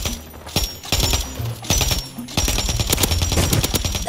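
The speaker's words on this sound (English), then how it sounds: "Someone's shooting behind us?" Rapid bursts of automatic gunfire in a multiplayer shooter video game, several loud clattering volleys across a few seconds with brief gaps, mixed with game effects and no talk.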